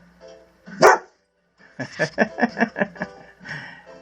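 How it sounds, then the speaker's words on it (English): A pet dog barks from inside a home, giving one sharp bark and then a quick run of about six close, loud barks, with a softer yip at the end. "Now what will you be barking at out there?"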